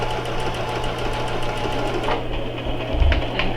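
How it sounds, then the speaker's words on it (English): A sewing machine stitches fabric in a rapid, even mechanical chatter with a steady low motor hum, close and fairly loud, briefly pausing and then restarting toward the end. "now we're working on keeping our fabric straight when we sew"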